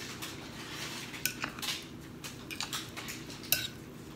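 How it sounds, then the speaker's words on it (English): A utensil stirs guacamole and salt in a large bowl, giving soft mashing sounds and a few sharp clinks against the bowl, close and quiet. "I'm gonna stir it up."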